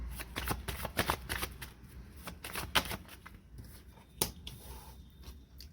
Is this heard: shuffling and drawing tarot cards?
yes